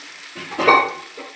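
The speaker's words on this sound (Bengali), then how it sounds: "এরপর আমি মাছগুলো ভেজে নিচ্ছি।" Fish frying in a pan, with a soft sizzle that swells briefly into a louder crackling burst before settling back to a quiet hiss.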